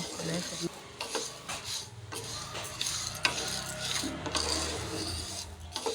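Lentils dry-roasting in an oil-free pan for homemade gram flour, stirred constantly so the grains rasp and rattle against the metal in a continuous, close, gritty scraping, with no one speaking.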